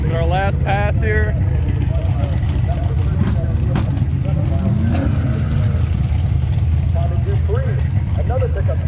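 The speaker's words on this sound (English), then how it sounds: "First burnout of the last Friday." A NASCAR-powered Plymouth Duster drag car does a burnout at Drag Week, a loud sustained engine roar heard throughout while people talk over it.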